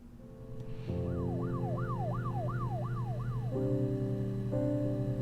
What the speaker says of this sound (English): Wait, did you hear the sirens?